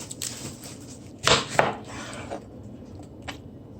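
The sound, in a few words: chopping an onion with a knife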